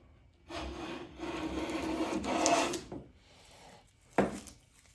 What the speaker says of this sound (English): Yeah, the Stanley is producing a comparable shaving.